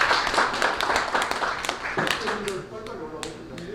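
Applause at an academic seminar on Korean food and its globalisation, as a presenter is welcomed: scattered claps and taps under a speaking voice, thinning toward the end.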